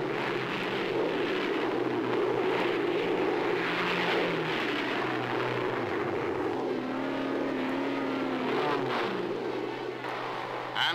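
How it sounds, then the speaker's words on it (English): Lockheed Shooting Star jets passing over an airfield, a loud sustained roar that rises and shifts in pitch as they sweep past, with a narrator talking over the engine noise. "The noise is deafening as the sleek jets flash over the field."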